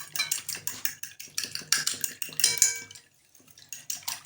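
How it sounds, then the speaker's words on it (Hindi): Eggs and milk are whisked in a bowl with quick, rhythmic clinking strokes in repeated bursts; the beating stops briefly before a softer resumption. "अंडे में हम डालेंगे 2 टेबल स्पून मिल्क और इसको अच्छी तरह से फेंट लेंगे"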